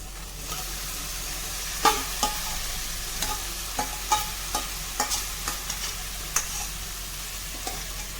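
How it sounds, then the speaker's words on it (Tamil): Marinated raw jackfruit sautés in a pan for biryani: a steady frying sizzle with a regular series of spatula taps and scrapes, each sharp and close. "இப்போது இதை வந்து நல்லா வதக்கிக்கணும்"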